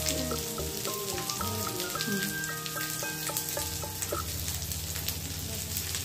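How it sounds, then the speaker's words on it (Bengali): Turmeric, chili and cumin powders sizzle and fry in a pan, a steady crackling hiss running throughout, close and fairly loud, with some stirring against the pan. "মশলাটা ভালো করে কষে নেওয়ার পর"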